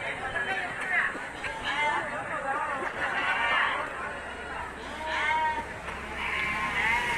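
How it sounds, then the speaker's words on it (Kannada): Young goat kids bleat repeatedly at a busy outdoor sheep and goat market, overlapping high calls rising and falling amid a constant murmur of crowd chatter and people talking nearby. "ಇದೆಲ್ಲ ಸಣ್ಣೂರು ಮರಿಗಳು, ಎಲ್ಲ ಮೇಯಿಸಿರೋ ಮರಿಗಳು, ಒಳ್ಳೆ ಮೇಯ್ಸಾಟ ಇದೆ. ಎಲ್ಲ ಮೇಕೆ ಮರಿಗಳು."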